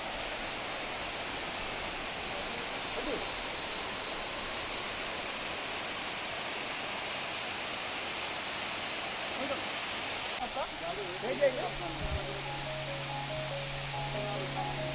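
The Kraikhong-1 waterfall in Bandarban, Bangladesh, gives off a steady, even, rushing roar of falling water that fills the whole span, with a few faint sounds toward the end.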